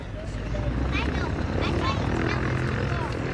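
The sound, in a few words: North American B-25 Mitchell bomber aircraft engine at airshow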